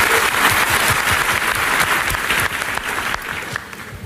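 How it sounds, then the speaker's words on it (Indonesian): A church audience applauds the praise and worship team in a sustained, dense round of clapping that holds steady and eases slightly toward the end. "Boleh tepuk tangannya di extend buat tim praise and worship kita."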